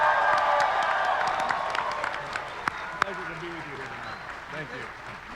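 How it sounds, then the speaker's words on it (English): Audience applause and cheering at an anime convention panel for a Dragon Ball Super presentation, broad clapping that slowly fades while a voice talks over the end. "One more big round of applause for all of our special guests we have on stage."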